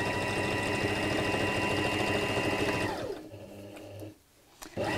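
A sewing machine stitches around the sides of a fabric clutch bag with a magnetic clasp, buzzing loud and fast for about three seconds before slowing and stopping, followed by a few faint clicks.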